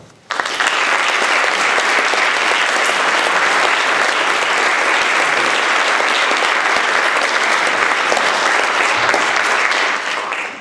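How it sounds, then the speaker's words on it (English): Sustained, dense audience applause as two speakers are welcomed onto the stage at a college talk, loud and steady for about ten seconds before tapering off at the end. "That's a nice applause."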